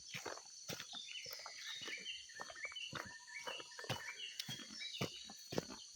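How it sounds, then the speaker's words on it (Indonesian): Birds calling on the way to a rubber plantation, several chirps and short whistled notes overlapping against a steady high insect drone, with sharp clicks and rustles close by. "bunyi burung-burung pun banyak sudah"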